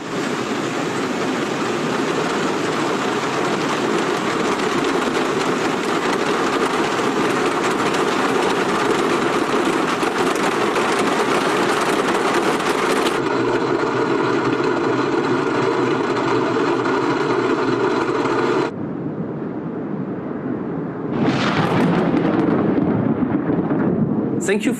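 Rain, thunder and storm weather sounds from the Flight Simulator video game form a steady, loud roaring wash of rain with low rumbling. The sound thins abruptly partway through, then cuts to near silence before a brief swell returns.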